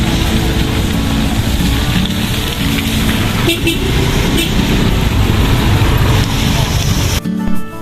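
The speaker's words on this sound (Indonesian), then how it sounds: "Macet." Heavy late-afternoon traffic jam on the street outside Beachwalk Mall in Kuta, Bali: a loud, continuous roar of idling and creeping cars, buses and motorbikes with occasional car horn toots throughout.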